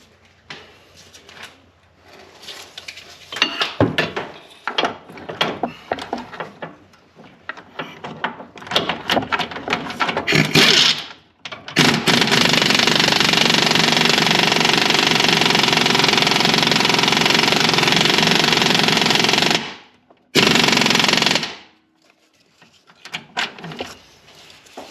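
Power wrench with an extension and 18 mm socket backing out a lower control arm bolt on a 2017 Chevy Spark, a loud sustained whir of roughly eight seconds after brief clicks and rattles, then a short second burst.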